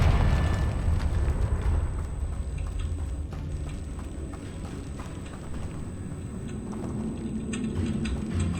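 Confringo blasting spell in the game Hogwarts Legacy, a dense rumbling explosion with crackling debris that stays loud and continuous across the whole stretch.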